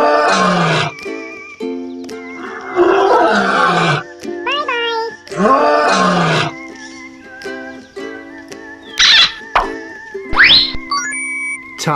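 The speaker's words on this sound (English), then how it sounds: "Lion." Lion roars from a children's zoo-animal learning song, several loud roaring bursts alternating with musical tones and bright chimes, under a steady background melody.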